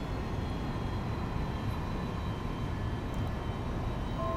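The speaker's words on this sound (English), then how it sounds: "Let's throttle back a bit here." Aircraft engine in the X-Plane 11 flight simulator running at reduced throttle: a steady, even engine drone with a faint whine above it, unchanging and continuous throughout.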